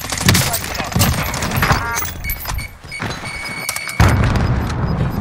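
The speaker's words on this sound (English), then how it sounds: "The grenade!" Grenade blast in Call of Duty: Warzone, a heavy low boom arriving near the end among several thuds and impacts, loud and close, mixed with gunfire-like bursts and excited voices.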